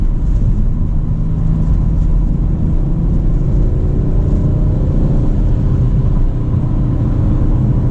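A 2021 Audi RS5 Sportback cruises in eighth gear, a steady low engine and road rumble droning loud and constant from inside the cabin.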